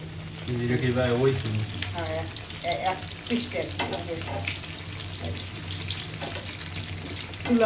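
Spice masala frying in a pan, a steady sizzle with stirring scrapes and some water noise running throughout, while someone talks over it.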